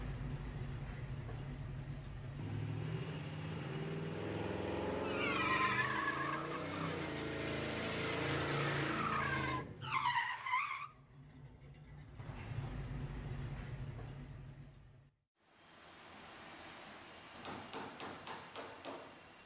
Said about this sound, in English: So if you're going to perform a thorough test, you better lay some rubber.